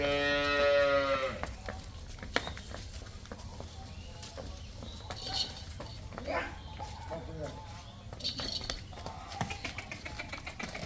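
A cow at a farm selling cows and buffalo lets out one loud, drawn-out moo at the start, followed by scattered clatter and shuffling while people talk.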